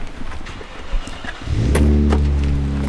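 LT4 V8 in an Aston Martin V8 Vantage, quiet shuffling at first, then the engine catches and settles into a loud, deep, steady idle rumble close by.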